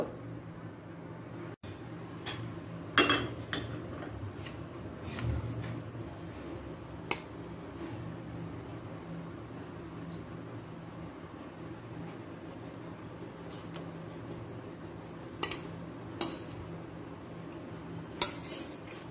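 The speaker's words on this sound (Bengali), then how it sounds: "এবার অন্য পাত্রে তুলে নেব।" Utensils clink sparsely against a pot as Bengali bhetki fish-bone chorchori cooked with mustard paste is moved into another pot: a few sharp, separated metallic taps spread over a steady low kitchen hum, with no talking.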